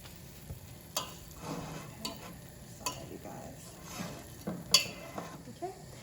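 A spoon stirs a dairy-free Alfredo sauce base with garlic in a pan, giving soft scraping and scattered clinks against the pot over a faint simmer, with a voice talking briefly.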